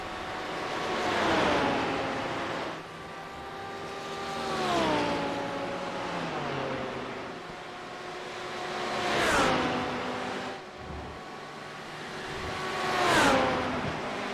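Race car engines in a sim racing game, including a Lamborghini, at Watkins Glen, rising and falling in pitch as cars pass and shift gears, with steady loud engine tones throughout and no talk.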